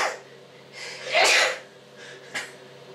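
One sharp sneeze bursts out near the middle during a home haircut, preceded by a drawn breath and followed by a short exhale, close and fairly loud.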